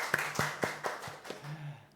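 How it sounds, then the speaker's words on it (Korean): At a Sunday worship service, a few congregation members clap in welcome with about six sparse, distinct claps, fairly faint and unhurried in a quiet room. "우리 한번 박수로 먼저 환영하겠습니다"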